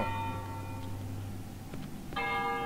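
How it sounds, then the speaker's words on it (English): Bell in the horror video game Cry of Fear: two resonant church-bell strikes, the first fading out over about two seconds, the second ringing out near the end, over quiet ambient hum. "Ah, a bell."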